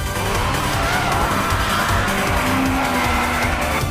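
A car drifting through a turn in an anime street race, a loud continuous roar of engine and skidding tires that holds steady and close for the whole stretch, with no one speaking.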